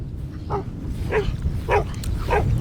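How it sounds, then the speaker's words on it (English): Dogs on a small homestead barking at someone walking past: four evenly spaced barks, somewhat distant, over steady outdoor wind or rumble noise. "Hear the dogs barking at somebody walking by."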